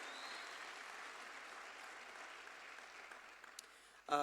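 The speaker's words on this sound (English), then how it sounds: "I would like us all to put a round of applause" Youth conference audience gives a round of applause, a broad, faint, diffuse wash of clapping from a distant hall that slowly fades, ending with a brief louder thump.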